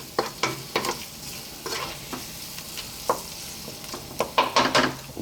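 Ingredients melt in a hot pan as they are mixed around, a low steady sizzle under repeated scraping and clattering stirs of a utensil, close and moderately loud.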